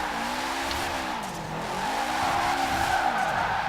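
A 1990 Subaru RS drifts in Forza Horizon 4, its tyres squealing continuously while the engine drones beneath. The pitch wavers as the slide shifts, with no talk over it.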